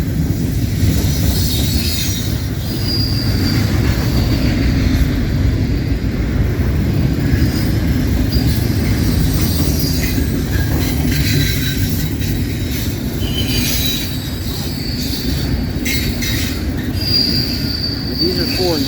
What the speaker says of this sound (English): Definitely, this train's got to be going track speed as well.